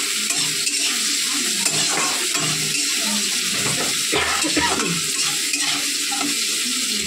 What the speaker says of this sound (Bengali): চলো বেগুনটা ভাজা হোক।